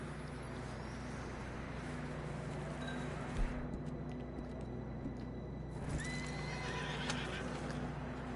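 In the video game Red Dead Redemption 2, a horse whinnies amid clip-clopping hooves, set against a constant low engine-like hum and background ambience.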